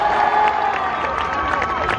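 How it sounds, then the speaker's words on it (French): An audience at a Disney show at Walt Disney Studios Park claps and cheers in a steady wash of applause, with scattered shouts rising above the crowd noise throughout. "Un tonnerre d'applaudissements pour Clément."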